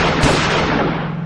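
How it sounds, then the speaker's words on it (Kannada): A single loud, close gunshot in a short crime film, one sharp blast with a booming tail that rings on and slowly fades. "ಹೊಡಿಯ ಗನ್ ಹೊಡಿಯ"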